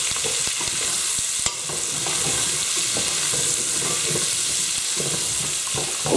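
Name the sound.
stirring onions frying in butter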